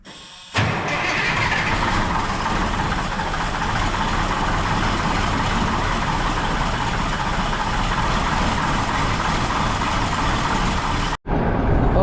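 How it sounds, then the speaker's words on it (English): A Mack truck engine cranks and catches, then settles into a loud, steady diesel idle close by, with a brief dropout near the end. "get the Mac started and get going"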